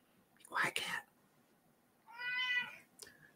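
A cat meows once, close by, after a soft burst of shushing from a person, with a brief click at the end.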